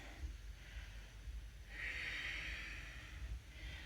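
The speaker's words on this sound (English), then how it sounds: "Breathing in and breathing out." Slow breath sounds from a yoga class on the floor during a cobra flow, a breathy airflow rising midway and easing off, soft and close with no talking.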